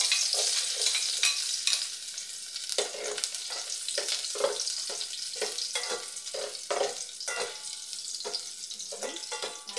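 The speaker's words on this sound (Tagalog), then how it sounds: "So, sa mahigit na mantika, igisa na natin muna ang bawang." Garlic sautéing in hot oil for a sardine soup with noodles: a continuous close sizzle broken by repeated scraping and clinking stirs of a utensil, with no talk.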